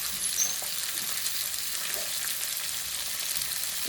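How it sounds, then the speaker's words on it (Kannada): Onions frying in a pan for avalakki uppittu, a steady close hissing sizzle with faint stirring and no talk. "ಫ್ರೈ ಮಾಡಿ ಚೆನ್ನಾಗಿ ಆಯಿತು."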